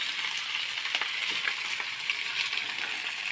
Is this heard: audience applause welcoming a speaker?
no